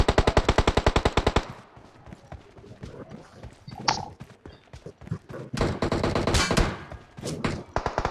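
Rapid bursts of automatic gunfire in the video game PUBG Mobile, a fast regular volley at first, then scattered shots and more bursts, loud and close.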